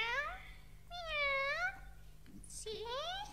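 A black cat gives three drawn-out meows, each rising and falling in pitch, clear and close against a quiet background.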